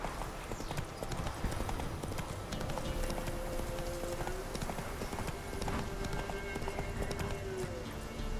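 Rapid, continuous hoofbeats of a horse clip-clopping at a steady pace in The Witcher 3: Wild Hunt, loud and close, over a dense ambient game background.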